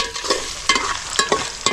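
Onions sizzle in a pan while being stirred for village-style pepper chicken, with four or five sharp, close scraping strokes over a steady frying hiss.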